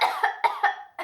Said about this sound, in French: c'était une vraie toux